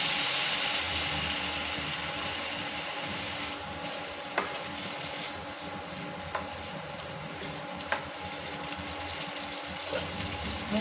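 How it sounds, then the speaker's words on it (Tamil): Cowpea stir-fry seasoned with chilli powder and turmeric sizzles steadily in a pan as a quarter tumbler of water is added, a loud hiss at first that eases into softer bubbling, with a few faint clinks along the way. "இப்போ வந்து ஒரு கால் டம்ளர் தண்ணி ஊற்றிக்கலாம்"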